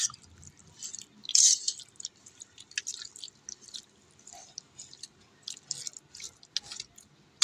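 Yogurt chicken marinade with spices is stirred by hand, giving soft, close, wet squishing and sticky smacks in an irregular rhythm, faint and without talk.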